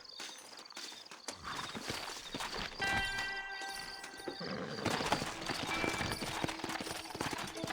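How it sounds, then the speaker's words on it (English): Horse hooves clip-clop rapidly over rough ground in Red Dead Redemption, with a brief whinny and ambient game effects; the galloping builds in intensity. "Horses are over here!"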